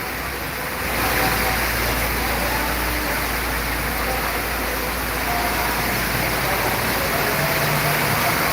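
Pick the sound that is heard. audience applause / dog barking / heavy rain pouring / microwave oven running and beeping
heavy rain pouring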